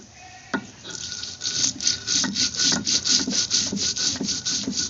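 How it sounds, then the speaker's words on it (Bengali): Black and white mustard seeds with a little salt ground together by hand on a grinding stone: close, rhythmic scraping strokes repeating steadily, with no talk. "কালো সর্ষে, সাদা সর্ষে একসাথে বেটে নেব।"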